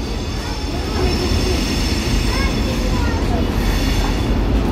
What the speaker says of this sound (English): Tram is coming. That's our tram.